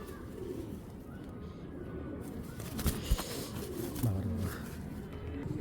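Giribaz pigeons coo in soft, low, throaty bursts close by, repeating a few times over a dull background hum.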